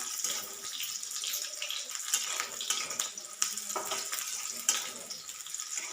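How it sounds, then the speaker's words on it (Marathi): Green chillies roasting in a pan over high heat, a soft continuous hiss and crackle with a few sharper pops and stirring clatters, fairly quiet and close. "मिरच्या चांगल्या लालसर भाजून घ्यायच्यात आपल्याला."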